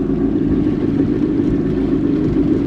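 A rebuilt, formerly worn-out jet ski engine idles on the water, a steady low rumbling drone that holds even and loud for the whole stretch, with some wind and water wash blended in.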